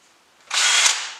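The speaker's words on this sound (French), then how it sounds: "je perce pour passer ma lame de scie sauteuse" A power drill bores a hole through a wooden workshop dust-collection gate to make room for a jigsaw blade, a close whirring burst starting abruptly after a faint hum and lasting under a second.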